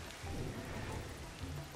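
Rain falls in the video game Ancestors: The Humankind Odyssey, a steady, soft hiss of drops with a low rumbling undertone, continuous and fairly faint with no voices.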